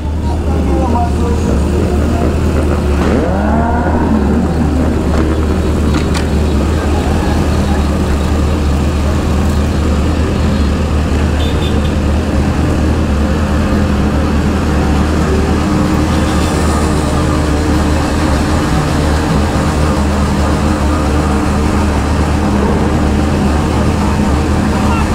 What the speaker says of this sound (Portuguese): A moto tá andando normal em 115, mano.